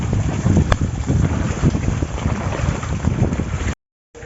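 Strong wind blows during heavy monsoon rain under a red alert in Porbandar, buffeting the microphone with a loud, continuous rumbling roar that cuts off abruptly near the end.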